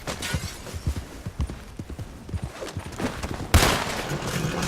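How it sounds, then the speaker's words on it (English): Gunfire from enemies in Red Dead Redemption 2, scattered shots crackling over the rhythmic clip-clop of galloping horse hooves, with a loud burst of shots near the end. "they're all shooting at me"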